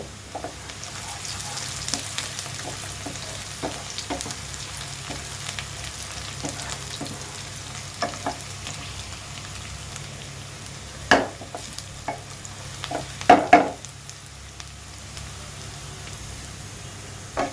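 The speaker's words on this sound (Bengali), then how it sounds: "একটু ভেজে নিব আমরা, পেঁয়াজটা গোল্ডেন কালার হয়ে যাওয়া পর্যন্ত অপেক্ষা করব।" Onion frying until golden in a pan, a steady close sizzle with occasional scraping clatters from stirring near the end.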